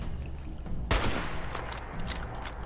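A single sharp shot rings out in Fallout 76, played solo, followed by fainter scattered shots over a steady background hum, with no voices.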